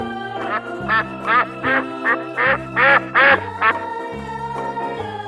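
A duck quacks about seven times in a steady, evenly spaced series, loud and close, over soft background music.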